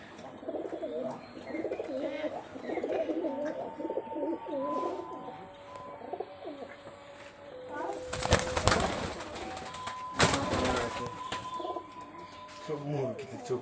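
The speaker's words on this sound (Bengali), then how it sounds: "একটু বড় সাইজের পা বাজির কবুতর" High flyer Giribaz pigeons coo in soft repeated low calls near at hand, with someone talking over them and a few sharp knocks and rustles toward the end.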